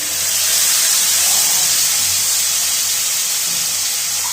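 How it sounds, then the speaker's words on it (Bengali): Spice paste of ginger, garlic, onion, tomato and green chilli frying in a pan for an egg, potato and cauliflower dalna, giving a steady close sizzling hiss that holds evenly throughout with no talk. "এবার একটু ভেজে নেবো লাল লাল করে"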